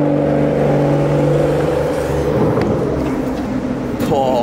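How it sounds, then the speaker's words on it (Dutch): A Maserati sports car engine hums steadily nearby with a deep, sustained drone, then rises in pitch in a brief rev near the end, with street noise around it. "Zieke Maserati."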